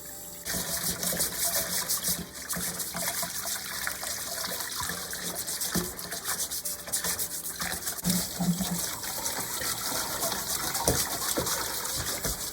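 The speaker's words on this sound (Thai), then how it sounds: "หอยเป่าฮื้อนะคะ เราก็ถูอย่างนี้เลยค่ะ" Raw abalone being scrubbed clean by hand under running water, a steady close trickle and splash of the tap with wet rubbing and handling noises throughout, no talking.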